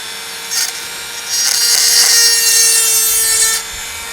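A Dremel rotary tool sharpens a chainsaw chain at high speed, giving a steady high-pitched grinding whine that swells louder through the middle and then drops away near the end.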